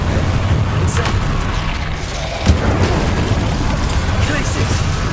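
A fire spell cast in Hogwarts Legacy: a loud, steady low roar of flames with a sharp burst midway, the rumble continuing evenly throughout.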